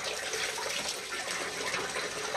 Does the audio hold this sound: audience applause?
no